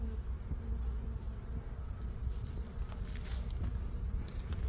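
A swarm of honeybees being caught, giving a steady, faint buzzing hum with soft rustling and bumps nearby.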